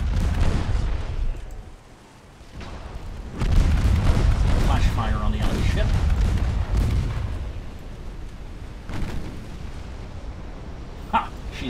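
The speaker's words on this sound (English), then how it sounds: "High explosive salvo, please." Naval guns in Ultimate Admiral Dreadnoughts fire a high explosive salvo, heavy booms and rumbling detonations rolling one after another over a continuous battle din, with talk mixed in.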